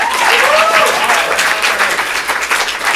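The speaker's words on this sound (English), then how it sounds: "Give these people a round of applause." A comedy show crowd at a Portland improv showcase gives a loud, sustained round of applause that fills the room, with a voice briefly audible over the clapping.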